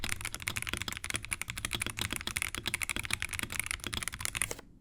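A Razer custom mechanical keyboard with stock switches types steadily, a close, crisp stream of rapid clacky keystrokes with no voices until it stops abruptly.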